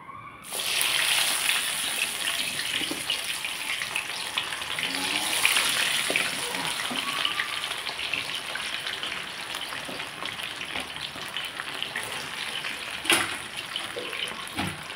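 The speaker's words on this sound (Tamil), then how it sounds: "இனி எண்ணெயில் போட்டு பொரிச்சு எடுத்துடலாம்." Spiced cauliflower pieces deep fry in hot oil with a steady, moderately loud hissing crackle that swells briefly after being dropped in and then carries on evenly.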